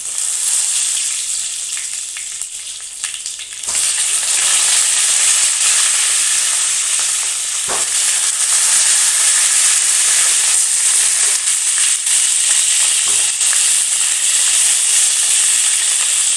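Green chilies and tomato frying in hot oil in a pan for chutney, a loud continuous sizzling hiss close by that briefly dips then surges back and holds steady throughout, no voices.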